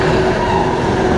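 A New York City R142A subway car on the Bronx-bound 6 local rumbles along the track, a loud, steady interior roar with a constant motor whine and no voices.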